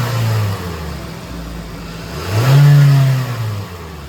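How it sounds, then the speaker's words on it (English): Car engine being tested, up close: a steady mid-pitched idle climbs into a loud rev as the throttle opens, then settles back down. "Increase the engine RPM, it should show a change."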